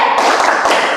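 Quick 'tepuk semangat' spirit clap by a group, a short burst of sharp rhythmic hand claps, loud and close, with no talk.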